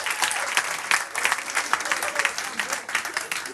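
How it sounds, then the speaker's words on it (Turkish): A quiz night audience claps in a brief, moderately loud burst of applause with scattered individual claps, and a few voices come through faintly. "Alkışlayın bir kendinizi"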